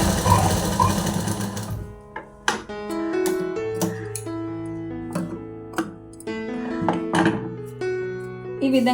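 A sewing machine stitches a blouse in a tailoring shop, with a steady mechanical whirr at first and then short runs and thumps, set against a tonal, melodic background.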